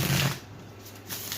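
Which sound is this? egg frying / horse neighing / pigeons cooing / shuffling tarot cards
shuffling tarot cards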